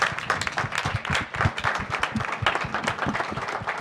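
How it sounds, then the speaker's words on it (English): A crowd at a chamber of commerce round table event claps and applauds steadily for a few seconds, moderately loud, with a dense patter of many hands. "Let's give our folks who participated one more round of applause."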